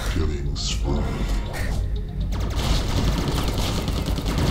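Machine gun fire in the video game Daedalus - No Escape, dense rapid bursts of game gunfire and booms running continuously and loud, with a voice talking over the shooting.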